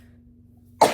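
A single sudden cough bursts out close to the microphone right at the end, after near silence with a faint electrical hum.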